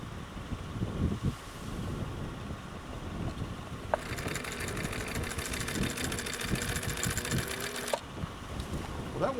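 A vintage Husqvarna Viking Type 21 sewing machine runs off grid on inverter power from a car battery, its steady rapid mechanical whir holding for about four seconds at close range against an outdoor background rumble.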